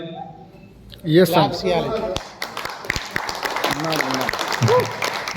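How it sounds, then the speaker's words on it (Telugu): Audience clapping in a Telugu talk or seminar setting, a burst of applause rising around the one-second mark and continuing with scattered taps, mixed with voices talking over it. "మేము ఈడ్నే ఉన్నామో తెలియజేయాలి. ఎట్లా తెలియజేయాలి? క్లాప్ ద్వారా, అప్పుడప్పుడు."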